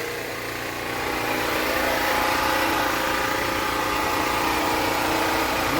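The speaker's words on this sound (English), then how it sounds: "Sorry for the generator noise." A portable generator runs steadily nearby, a constant loud mid-pitched engine drone that swells slightly at the start and then holds even, with no voices over it.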